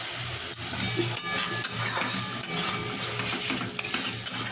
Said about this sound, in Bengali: ভালো করে ভাজা হয়ে যাচ্ছে, তেল ছাড়তে শুরু করেছে